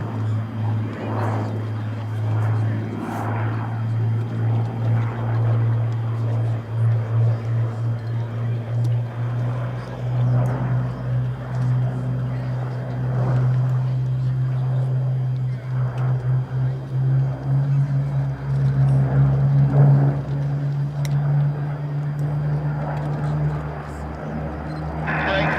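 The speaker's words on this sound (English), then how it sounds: "185 horsepower in the Merlin 20 in the nose of the RC Hurricane." RC Hawker Hurricane scale model with a Merlin 20 engine flying a display, a steady droning propeller engine note held throughout at moderate distance, swelling slightly as it passes, with no talk over it.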